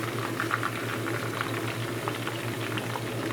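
Tequila lime chicken wings, unbreaded, getting a second fry in hot oil, giving a steady, dense bubbling sizzle close by with a low hum underneath, no talking.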